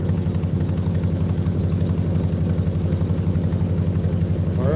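A 1972 Highboy truck engine runs close to the exhaust, a loud, steady low rumble with a regular throbbing pulse throughout.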